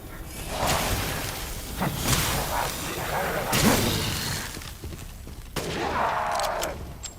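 Gunfire in the video game Resident Evil Village, several sharp shots and bursts scattered across the moment with whooshing effects between them, mixed under someone talking excitedly.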